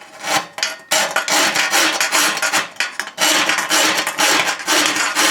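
A half round file rasps along a metal bash plate for a Triumph motorcycle, in long, loud, close strokes with brief pauses between them.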